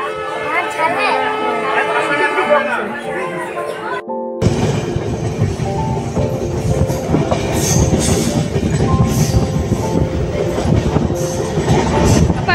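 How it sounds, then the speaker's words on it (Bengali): Kanchankanya Express train running on rails with a steady rumbling rattle throughout, after a brief gap at the start where other sound plays, with voices faintly mixed in. "ট্রেন ছাড়লো আবার।"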